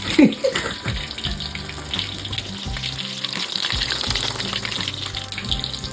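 Fish frying in hot oil in a pan, a steady crackling sizzle with bubbling oil that continues throughout, fairly close and moderately loud, with no talking.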